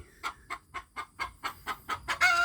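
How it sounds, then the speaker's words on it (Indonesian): Brooding free-range village hens clucking in a steady series of about ten short, evenly spaced clucks, close and fairly loud, ending in a louder, denser burst of clucking. "ada beberapa ayam itu sedang mengerami"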